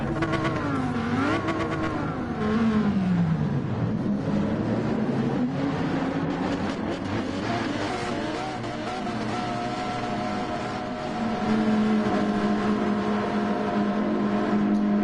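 A purple Lamborghini Huracan GT4 racing in the video game Gran Turismo 7, its engine revving up and down through gear changes, steady and close throughout.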